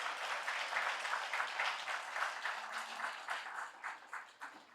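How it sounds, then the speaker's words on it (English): Audience applause at a hometown heroes dinner honoring sheriff's department staff, a dense, steady roomful of clapping that holds loud for several seconds, then thins and tapers toward the end. "If you guys would stand up so we can all give you an applause."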